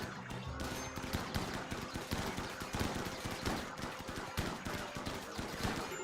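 Mechs and snipers trade gunfire in RimWorld, with rapid overlapping bursts and single sharp shots crackling steadily throughout at a moderate level.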